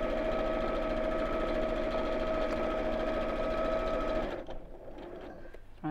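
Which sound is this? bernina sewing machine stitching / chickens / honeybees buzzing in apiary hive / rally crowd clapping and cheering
bernina sewing machine stitching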